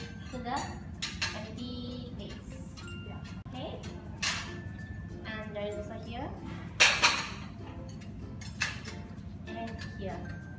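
Plates, cutlery and dishes being cleared from a dining table after a main course, with repeated clinks and clatters of china and silverware over steady room noise and occasional voices.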